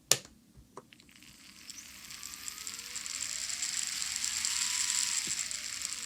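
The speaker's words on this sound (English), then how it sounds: "it's enough to get the motor moving here on the locomotive" Motor and gears of a Bachmann garden scale Climax model locomotive whirring up to speed, a faint rising mechanical whine with light ratcheting clicks, close and steady, no talk.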